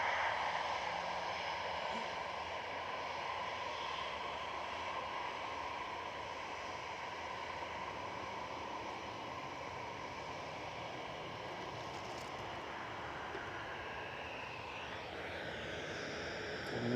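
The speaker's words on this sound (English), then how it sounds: "We've got the KLM E2 pushing back, taxiing out now." A KLM Embraer E2 airliner taxis at Manchester Airport, its engines giving a steady, moderately distant broadband roar and whine that holds level throughout with no talk over it.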